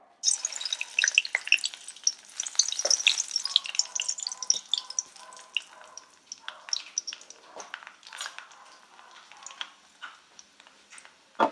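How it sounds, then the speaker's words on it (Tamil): Cinnamon and cloves crackle and sizzle in hot oil, a dense run of sharp pops and hissing with occasional louder snaps, close and steady throughout. "பட்டை கிராம்பு தாளிக்கிற ஐட்டத்தையெல்லாம் போட்டுருவோம்"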